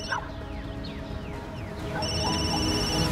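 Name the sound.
telephone ringing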